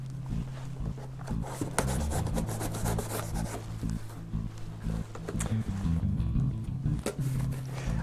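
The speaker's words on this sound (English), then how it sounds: "To start the unboxing by just opening up a package here." A knife slices open the packaging of a Benro carbon fiber travel tripod, giving close scraping and rasping cuts through cardboard and tape with a low rumbling hum underneath, no speech.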